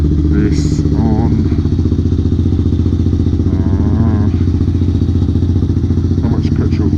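Motorbike engine idling close by in a steady, loud mechanical chug with faint clatter, with brief voices over it.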